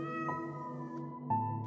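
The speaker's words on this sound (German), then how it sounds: "Doch plötzlich hörst du ein Miauen im Inneren der Höhle." A cat meows softly inside a cave in a long, drawn-out cry followed by a shorter second meow, faint and steady, with no talking.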